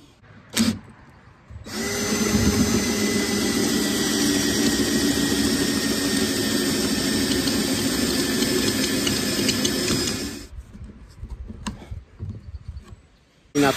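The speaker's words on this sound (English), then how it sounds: "I guess I can just drill a hole right here." A power drill boring a hole through plastic on a homemade biogas digester: a steady, loud whirring drone of about nine seconds that starts and stops abruptly, with quieter handling clicks around it.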